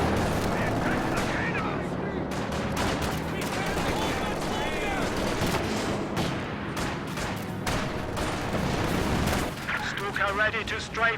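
An anti-infantry strafing run in a video game rakes the ground with dense, overlapping gunfire and rumbling impacts, loud and continuous, with a voice talking over it in places.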